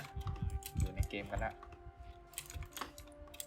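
Quick keyboard typing while playing a computer shooter game, rapid clicky keystrokes that come in bursts close to the microphone as someone talks over them.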